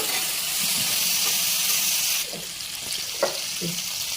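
Paneer pieces fry in melted butter with a loud, dense hiss that drops abruptly halfway, leaving a softer sizzle with a few light clinks and taps.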